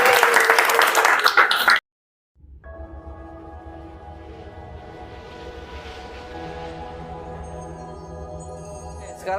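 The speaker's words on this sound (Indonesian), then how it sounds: "Kasih aplaus." Applause in a school classroom, dense clapping for under two seconds that cuts off abruptly into near silence, followed by a sustained tonal hum.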